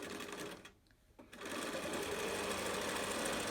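A sewing machine zigzag stitches face mask fabric with a dense, loud mechanical whir, briefly pausing for a moment before resuming steadily and close.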